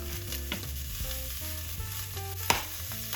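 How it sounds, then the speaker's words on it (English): Tomato paste sizzling in a hot pan, a steady close hiss that runs throughout under faint background music, with a couple of brief scrapes. "You're gonna go ahead and add tomato paste on one side of the pan"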